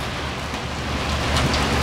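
Heavy rain pours down steadily outside a riverside breakfast spot, a dense, loud, continuous hiss with no talk over it.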